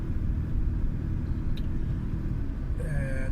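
A car engine idles and rumbles at low speed in slow gear on an old-town street in Chiang Mai, a steady close low drone with a brief higher tonal whine near the end.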